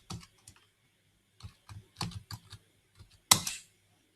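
Password typed on a computer keyboard while installing MySQL Server on Ubuntu Linux: short bursts of close, crisp key clicks in an irregular rhythm, ending with a louder final keystroke, in a quiet room.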